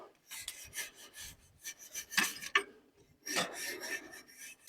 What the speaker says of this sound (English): Scrub off as much as possible.